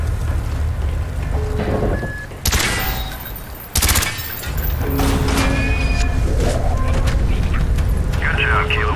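Gunfire in Call of Duty Black Ops as door hinges are shot out, with bursts of loud cracking shots and a heavy blast under constant rain-like noise, while voices talk over it.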